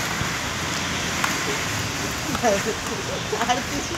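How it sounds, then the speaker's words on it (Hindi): Steady rain hisses across a surface, with faint voices murmuring underneath. "बारिश हो रहा है"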